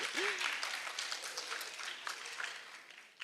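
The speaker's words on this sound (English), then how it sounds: "Big clap for them" Applause for performers at a storytelling workshop in a school, a soft, fairly distant patter of clapping from a small audience, with a brief voice sound near the start.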